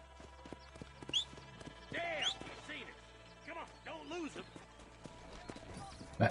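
Horse hooves clop in Red Dead Redemption, irregular thuds and clatters spread through the stretch, mid-distance and moderate, with someone talking over them at intervals.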